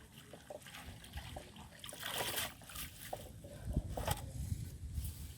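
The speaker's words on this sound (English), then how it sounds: "I will start by washing mchicha" Mchicha leaves washed by hand in water in a Giriama village kitchen: close splashing, swishing and dripping, loudest in short bursts near the middle and end, with no voices.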